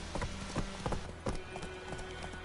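Roach, a horse in The Witcher 3, clip-clops along in an irregular trotting rhythm of sharp hoof strikes, fairly close over a quiet ambient bed.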